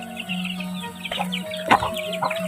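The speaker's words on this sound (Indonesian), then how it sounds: "Seur hayam lagi" Chickens clucking around a morning village in rural West Java, several birds calling in short bursts at close to moderate distance, with a louder cluck cluster near the middle, no talk.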